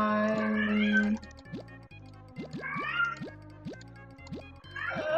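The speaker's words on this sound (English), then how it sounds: "Yeah, sorry, that's my cat." A pet cat meows several times, loud and close, in drawn-out wavering calls over steady rhythmic music and popping effects from a Bloons TD Battles game.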